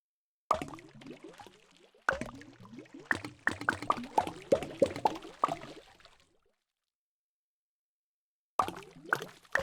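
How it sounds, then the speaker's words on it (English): Small popping splashes from the calm building game Townscaper, a rock dropping into water, arriving in quick irregular bursts of soft plops with short gaps and a longer pause before a final cluster. "Just that little popping noise. The sound of a rock splashing in water."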